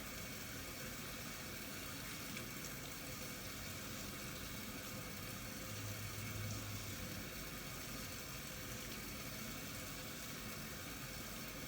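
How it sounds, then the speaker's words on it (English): Water runs steadily from a tap, a continuous faint hiss with a low hum beneath it and no voices. "we're going to rinse our hands thoroughly under the water."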